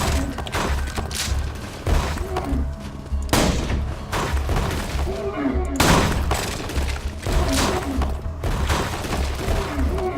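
Rapid bursts of gunfire in Borderlands 2 as projectiles are shot out of the air, loud and close, with repeated sharp cracks and booming thuds in clusters over a rumbling low background.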